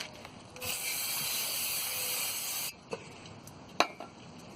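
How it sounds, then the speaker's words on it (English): A single long aerosol spray of cleaner onto a rear brake rotor of a Mitsubishi Eclipse hisses loudly for about two seconds, followed by a few faint clicks and a sharp knock. "And spray the surface."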